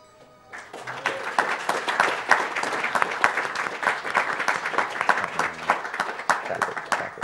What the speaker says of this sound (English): Could I get a request of a round of applause